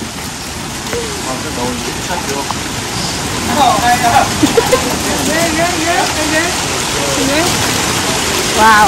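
Steady rain pours down outdoors, a dense continuous hiss broken by brief exclamations and a few voices and chirps over the top.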